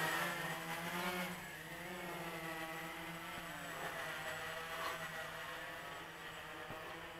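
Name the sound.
Walkera QR-X350 Pro quadcopter drone flying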